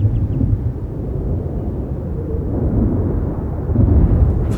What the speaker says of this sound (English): the sound of the approaching storm is a familiar one.